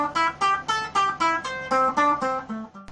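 An unbroken run of evenly spaced, plucked guitar notes plays as a solo, about four notes per second, each note clear and bright with no pauses or phrasing between them.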